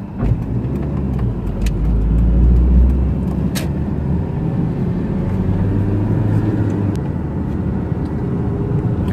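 A car driving on a road in Warsaw, a continuous loud engine and road rumble from inside or near the vehicle, swelling slightly midway, with faint clicks and no clear talk.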